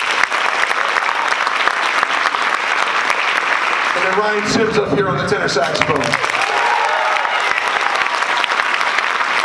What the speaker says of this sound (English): Having another round of applause for Harrison Sylvester on the drums.